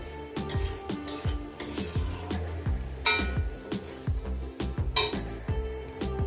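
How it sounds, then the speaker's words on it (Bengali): A spoon scrapes and clinks against a pan as eggplant is stirred, with a steady run of sharp metallic taps and knocks, moderately close, then a lid is set down with a louder clank. "দিয়ে এটাকে আমি একটু নাড়াচাড়া করছি যেভাবে নাড়াচাড়া করে নিচ্ছি নিয়ে এটাকে আমি কভার করে চাপা দিয়ে দেবো"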